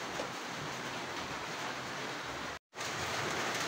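Rain falls steadily on an afternoon in the Philippines, a constant broadband hiss with no wind, briefly dropping to silence for an instant before resuming.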